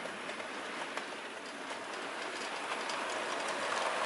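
A model railway train runs along a layout, a continuous light rolling rumble with faint clickety-clack ticks that grows slightly louder toward the end.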